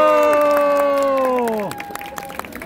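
A street busking audience in Hongdae cheers with a loud, sustained group shout that drops away after about a second and a half, leaving scattered crowd noise.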